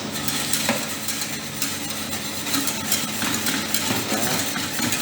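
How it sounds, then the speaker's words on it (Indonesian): Vanilla creme brulee mixture stirred in a pan over the heat, busy close scraping and tapping of a utensil against the pan with a faint sizzle underneath. "aduk terus sampai tercampur vanilanya kelihatan ya"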